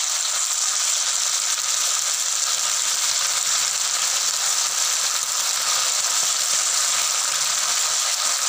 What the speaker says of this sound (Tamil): ஆயில் நல்லா ஹீட் ஆயிடுச்சு. இப்போ சிக்கனை ஒவ்வொன்றா போட்டுக்கலாம்.